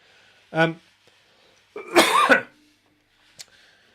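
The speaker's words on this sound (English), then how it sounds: "Apologies for the coughing." A couple of harsh coughs close by, one short then a longer throat-clearing cough, with quiet pauses between.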